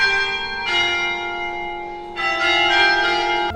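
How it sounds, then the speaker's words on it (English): Church bells ring out in Reykjavik, loud and resonant, with sustained ringing tones and fresh strikes layering over the lingering hum, heard alone without voices. "We heard the bells ring."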